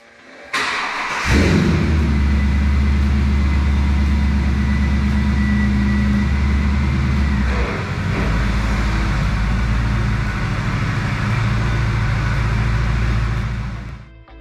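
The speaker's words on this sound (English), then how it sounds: "let's move some cars around" A car engine starts up in a garage and idles loudly nearby, its low rumble steady for a long stretch with a shift partway through, then cuts off near the end.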